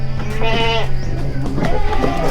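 Several goats bleat in turn on a goat farm, loud and close, with wavering calls overlapping amid steady farmyard background.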